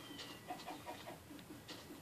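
Chickens cluck in the video game Minecraft, a run of short, soft, bird-like clucks spaced irregularly across a couple of seconds, faint and alone with no talk.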